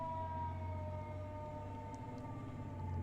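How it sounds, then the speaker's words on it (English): Emergency vehicle sirens wail steadily outside a building, a sustained tonal howl heard from a distance through the walls, with low traffic rumble underneath and no talking. "there's like a siren parade outside my building"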